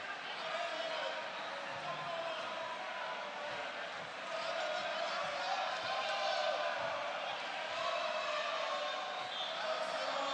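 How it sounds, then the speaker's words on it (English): A crowd at an MMA fight in Santo Domingo, a steady wash of voices with rising cheers and shouts throughout, with a hint of announcer talk over it. "You hear the crowd in Santo Domingo trying to get behind Jhonasky Sojo for these final 3 minutes"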